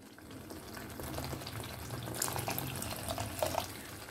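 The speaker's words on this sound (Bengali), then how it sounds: "এবার এর মধ্যে একটু জল দেব সামান্য পরিমাণে" Half a cup of water goes into a thick, simmering spiced egg-curry gravy in a pan, giving a steady close sizzle and bubbling with a few brighter splashy clinks, continuous throughout with no talking.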